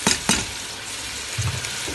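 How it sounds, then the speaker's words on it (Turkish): Potatoes and carrots are poured into a hot pot for celery soup, setting off two sharp splashes and then a steady loud sizzle with brief stirring scrapes. "Patatesle havucunu döküyoruz."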